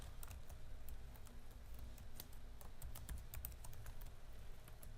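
Steady, close computer keyboard typing with quick irregular key clicks throughout, no voices.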